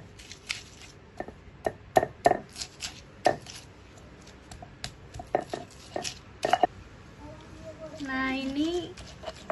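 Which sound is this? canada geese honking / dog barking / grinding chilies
grinding chilies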